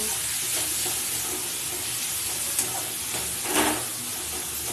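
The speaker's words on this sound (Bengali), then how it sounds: "তারপর বিটটাকে ভালো করে আমি এরম করে ভাজা ভাজা করে নেব" Beetroot frying in a pan gives a steady, moderate sizzle with a few brief louder stirring scrapes, and no one speaks.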